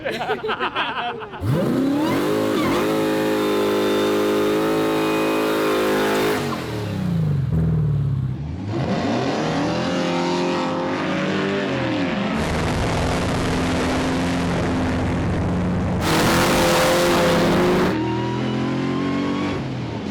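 Hellcat Challenger muscle car launching down a drag strip, its supercharged engine revving hard through rising and falling gear sweeps, loud and close, with a brief lift-off around midway before winding up again.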